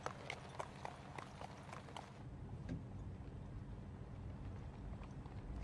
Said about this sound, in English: These horses are slowing us down.